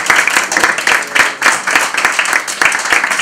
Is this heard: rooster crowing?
no